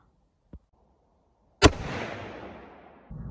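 A single sharp rifle shot from a 6.5x55 Swedish firing heavy bullets cracks loudly at close range, then a long rolling echo fades across an outdoor range after a faint click.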